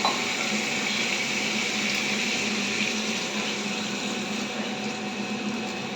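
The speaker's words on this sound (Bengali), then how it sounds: "এই দেখো বাটি ধোয়া জল একটু দিয়ে দিলাম আগে" Water from rinsing a bowl poured into fish curry spice paste frying in a pan, giving a steady, even hiss and sizzle that stays loud and continuous throughout, with no talk.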